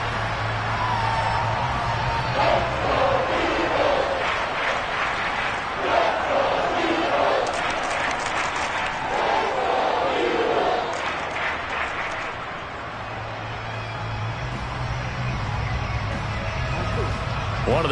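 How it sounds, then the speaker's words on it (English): A football stadium crowd shouting and roaring, swelling to a loud sustained din before easing off, with a broadcaster talking at the start and end. "Plenty of shouts from this crowd as they watch the replay."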